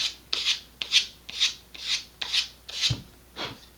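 Sandpaper worked back and forth over a part of an Estes Optima Pro model rocket, seven even rasping strokes at a steady rhythm, close and clear with no voices.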